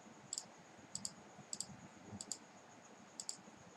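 Mouse clicks while connecting cables between a router, switch, IP phone and PC in Cisco Packet Tracer: about five sharp double clicks spread at irregular intervals, close and fairly quiet over faint background noise.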